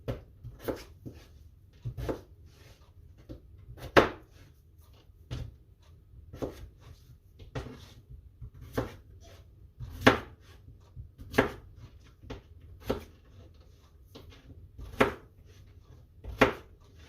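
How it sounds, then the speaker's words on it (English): Knife chopping peeled, rinsed potatoes on a cutting board at a home kitchen counter: a steady series of sharp, close blade knocks at an uneven rhythm, alone with no talk. "Now we're going to chop them up."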